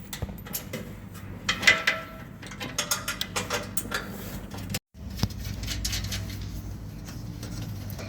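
A hand ratchet clicks in short bursts while bolts are tightened on a Rockarmor GT bull bar being fitted to a 300 Series Landcruiser; the close metallic ticking comes in uneven runs, then a brief gap and softer mechanical handling.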